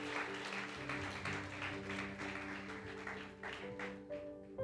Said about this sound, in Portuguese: Dê mais um aplauso a Jesus, porque Deus é bom.